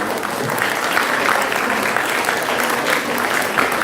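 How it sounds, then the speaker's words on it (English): A crowd at a National Youth Day event at Ramakrishna Math, Halasuru, claps in sustained, dense applause that stays loud and even from start to finish. "Big round of applause to all of them."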